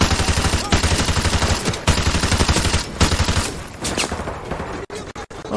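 Rapid automatic gunfire from a heavy-recoil weapon in the video game MW2 Remastered, loud sustained bursts in quick rhythm for several seconds, then tapering into scattered sharper shots.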